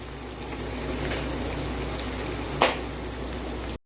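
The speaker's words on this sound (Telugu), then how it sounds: "అది ఫ్రై అయ్యే వరకు వేపుకోవాలి" Onions fry in a pan with a steady, close, even sizzle, broken by one brief sharp clatter near the end.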